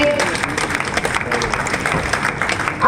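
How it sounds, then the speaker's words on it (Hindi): Loud, dense applause from an audience at an environmental protection award ceremony as a school team is welcomed to the stage, with many hands clapping steadily and close throughout. "जोरदार तालियों से स्वागत कीजिए"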